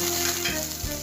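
Steady crackling sizzle of mustard seeds frying in hot oil in a pan, close and continuous, with a slight shift in tone midway.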